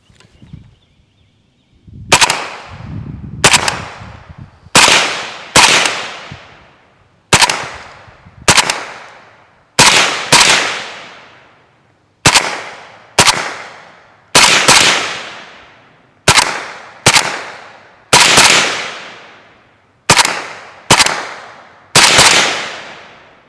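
WBP Jack AK47 rifle firing outdoors, loud sharp single shots at irregular intervals of about one to two seconds, each followed by a decaying echo, with no talking between them.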